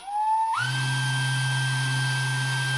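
A handheld blower spins up with a rising whine, then runs steadily, giving a high-pitched motor tone over a low, constant hum.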